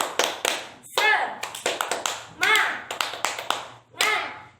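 Rhythmic "tepuk semangat" hand-clapping chant in a classroom religious-ethics lesson: sharp claps in quick patterned bursts, close and loud, alternating with a woman's spoken chanting between the clap groups.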